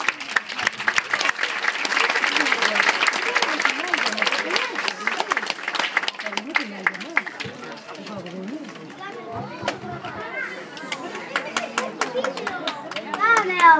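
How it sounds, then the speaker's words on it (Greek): An audience at a kindergarten's Odyssey performance applauds loudly to welcome the children onto the stage, the clapping fading later as children's voices and chatter come through. "με ένα δυνατό χειροκρότημα να υποδεχτείτε τα παιδιά"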